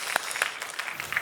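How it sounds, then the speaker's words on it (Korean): Church congregation clapping together, a short, moderately distant patter of many hands. "네, 서로 추워 수고한 여러분들께 같이 서로 박수 드리겠습니다."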